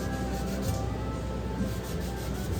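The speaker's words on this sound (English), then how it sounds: "Just do some minor sanding" Light sanding on a scrap metal sculpture built from pistons, a steady continuous rubbing rasp that holds at one even level for a couple of seconds, close by with no voices.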